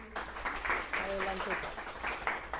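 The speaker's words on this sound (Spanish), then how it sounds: "les pido por favor que le demos un fuerte aplauso" An audience applauds a guest speaker at a talk on creating a graphic novel: steady, moderately loud clapping fills the room, with a voice audible through it.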